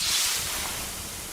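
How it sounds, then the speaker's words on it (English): Water poured onto 800-degree sauna rocks gives a loud, broad steaming hiss that starts strong and slowly fades, with no voices. "The sound of water being poured on 800-degree rocks."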